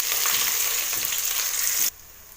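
Chopped large onion hits hot oil in a pan for a cauliflower biryani, giving a loud, continuous bright sizzle that stops abruptly near the end.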